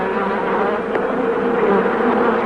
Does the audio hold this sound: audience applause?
no